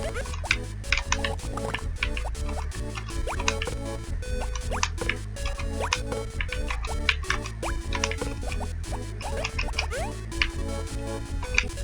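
Watering crops in the Harvest Moon video game, heard as rapid, repeated game sound effects of dripping and splashing water that run steadily over looping background music, with no talking.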